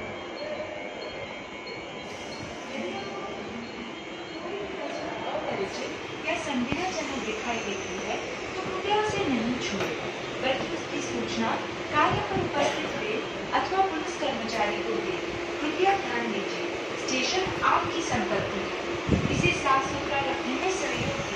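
A Mumbai local train at a station rumbles and clatters steadily, with squealing wheels and station bustle, while someone talks over it throughout.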